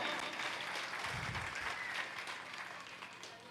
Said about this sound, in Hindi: ताली बजाओ, जोर से सम्मान दो भाई